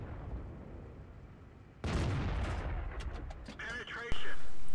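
Tank cannon fire in an armored-vehicle combat video game, aimed at an M18 Hellcat: sudden loud blasts and rumbling battle noise, with a sharp report near the end.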